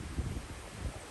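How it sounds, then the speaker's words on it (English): Wind gusts rumble against the microphone on a windy May morning on a cattle farm, a low, steady buffeting roar with no voices. "It's a little windy."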